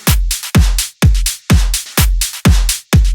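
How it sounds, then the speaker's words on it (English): An electronic clap in a progressive house track is sent through a delay effect. Each sharp hit comes back as fading echoes, and the pattern repeats in a steady loop about every half second, loud and alone. "Another bit of delay here on the clap."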